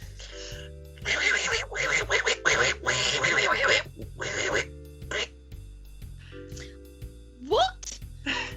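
A performer does a squawky, quacking Donald Duck voice imitation while playing Gandalf tricking Bilbo Baggins. The nasal duck-voice bursts come in uneven, choppy phrases over steady background tones, with a rising squeal near the end.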